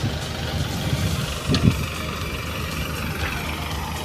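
Old-model mini tractor engine running on a farm, a steady low idling rumble held throughout with a brief louder surge midway, no talking.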